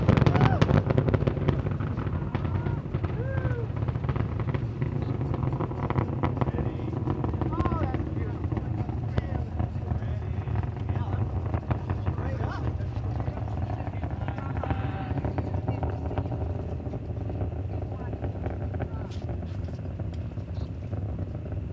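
Space Shuttle Endeavour on the STS-47 launch, its engines throttled down to 67% near maximum dynamic pressure, giving a continuous distant rumbling roar with crackle throughout, under a faint radio voice.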